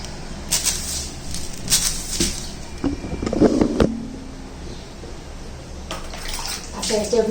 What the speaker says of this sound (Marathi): चला आपण लादी धुवून काढूया आता